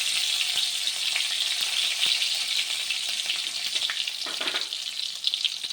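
Green chillies sizzle steadily in hot oil for a Tamil sago sundal, a dense, bright crackle that holds close and even throughout with a few small pops and no voices.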